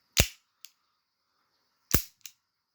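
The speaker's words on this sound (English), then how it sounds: "Nice heavy pull back on the slide," Slide of a full-metal Beretta M9A3 CO2 pistol racked twice, each pull a sharp metallic clack followed by a quieter snap as it returns, close and alone.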